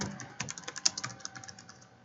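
Quick, steady keystrokes on a computer keyboard while a school name is entered into a form, close and fairly quiet, with no talking.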